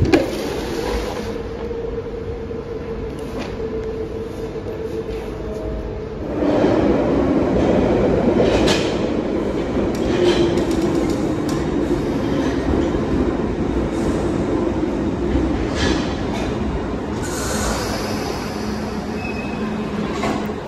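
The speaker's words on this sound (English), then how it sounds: "It was time for us to take our bikes on the tube." A London Underground tube train running, with a loud continuous rumble and rail roar that swells partway through, plus faint high squeals and clatter over the steady drone.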